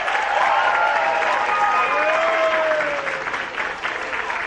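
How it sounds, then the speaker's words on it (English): Audience applause fills a school hall for the MYP Year 2 band at an end-of-year band presentation, steady dense clapping throughout with a tonal instrument note lingering underneath, fading slightly toward the end. "I need one more round of applause"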